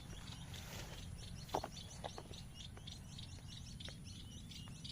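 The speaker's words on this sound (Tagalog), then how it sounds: "Napakadami pong ibon dyan." Many small birds chirp and tweet continuously at a distance, a busy layered chorus over a steady low rumble of background noise.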